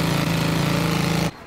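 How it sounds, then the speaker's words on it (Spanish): A leaf blower roars loud and steady at close range for over a second, then cuts off abruptly into a quieter background. "El soplador de hojas,"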